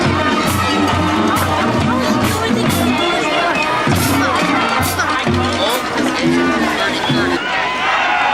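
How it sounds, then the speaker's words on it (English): A loud crowd cheers and shouts in the stands at a cold-day high school football game, a constant roar of voices with bursts of yelling, while an announcer talks over the noise. "a pretty loud crowd here from Clinton Township."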